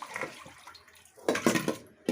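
Pigeon pea pods being washed in water, with soft splashing and sloshing bursts, quieter at first and then a louder churning burst near the end.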